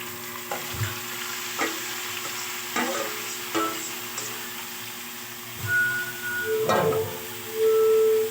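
Green papaya sizzles in a hot pan, with intermittent scrapes and clinks as it is stirred and tossed. The frying is close and moderately loud, and there is no talking.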